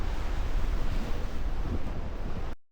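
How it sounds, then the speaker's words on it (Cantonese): Strong, gusty wind buffets the microphone at a cloudy seaside in Jeju, a steady loud roar of broadband noise with surf mixed in, lasting about two and a half seconds before cutting off. "今日係最大風同埋係陰天嘅一天啊！"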